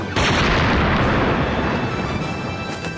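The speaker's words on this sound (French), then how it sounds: "Tirez, soldats, ne faites pas de sentiments" Soldiers in an animated Winx Club episode open fire with guns, a dense, loud continuous barrage of blasts and booms filling the whole moment without any talk.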